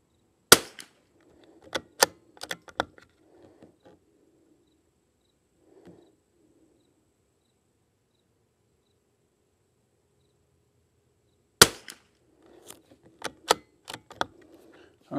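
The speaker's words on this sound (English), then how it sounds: "All right, this is the fifth shot." Rifle shots from a CZ 455 rimfire fired with Lapua Xact ammunition, two sharp isolated cracks far apart, each followed by faint mechanical clicks and handling sounds.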